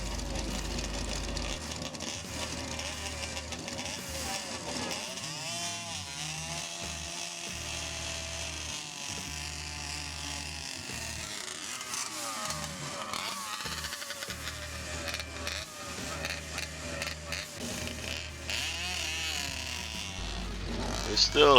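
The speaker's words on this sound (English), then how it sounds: "here we have New Zealand's first ever junior dragster motorcycle" A small Kawasaki two-stroke engine on a junior dragster motorcycle idles and revs unevenly at a drag racing event, with rising and falling revs and surging bursts. Some people talk nearby.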